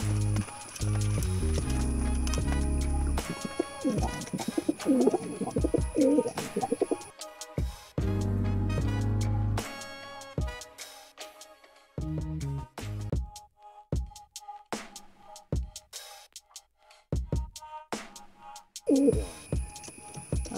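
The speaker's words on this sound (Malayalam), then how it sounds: "ഇനി അടുത്തായിട്ട് വരുന്നത് പോസ്റ്ററായിട്ട് ഉപയോഗിക്കുന്ന നാടൻ പ്രാവുകളാണ്" Native pigeons coo in soft, repeated phrases among intermittent knocks and other background sounds, some stretches loud and others near silent.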